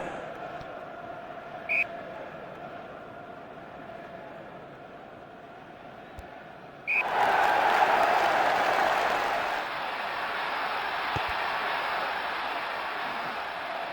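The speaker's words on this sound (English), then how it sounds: "Well, the crowd didn't like that." Virtual stadium crowd in the Jonah Lomu Rugby video game, a steady murmur that suddenly swells into a loud, sustained roar midway, then eases back to a fuller background din.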